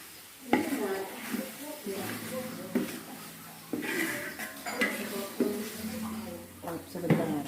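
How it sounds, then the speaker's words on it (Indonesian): Chicken for a Batak-style village chicken dish goes into a pan of fragrant aromatics, bringing clattering utensil knocks and a sizzle while someone talks over the cooking. "kita masukkan ayamnya."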